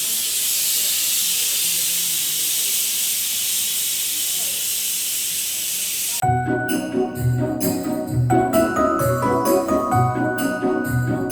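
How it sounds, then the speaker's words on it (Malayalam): A pressure cooker holding beef vindaloo, a Fort Kochi Christmas dish, lets out a steady close hiss of steam for about six seconds before music takes over. "ഇതെല്ലാം കൂടെ നമ്മൾ പ്രഷർ കുക്കറിലേക്ക് ട്രാൻസ്ഫർ ചെയ്യുകയാണ്. എന്നിട്ട് പ്രഷർ കുക്കറിൽ ഒറ്റ വിസിലിന് നമ്മൾ വേവിച്ചെടുത്ത്"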